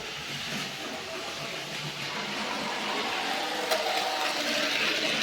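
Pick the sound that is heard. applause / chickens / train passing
train passing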